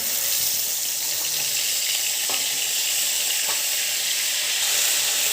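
Ginger, garlic and onion paste fries in hot oil with a bay leaf, making a loud, dense, continuous hiss with a couple of faint utensil clicks. Nearby and steady throughout, with no speech.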